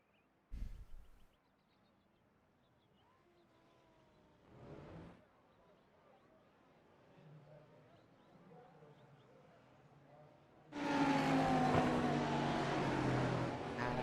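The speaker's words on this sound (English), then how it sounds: "As all the cars now head onto the grid." Race cars in a W12 Sprint Series sim racing event roll onto the grid: faint engine murmur and a few scattered bumps, then a sudden loud roar of many engines together that holds steady to the end.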